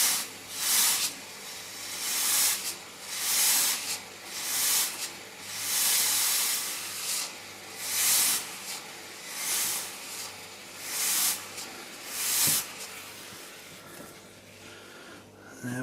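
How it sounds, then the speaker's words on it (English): Steam from an iron hissed against a dented wooden gunstock, repeated bursts of loud sizzling hiss in a steady rhythm about every second or two, close and continuous. "very often you can get that out by just steaming the thing and making that grain just pop back up."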